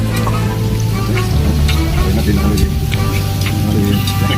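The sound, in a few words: prawns frying in oil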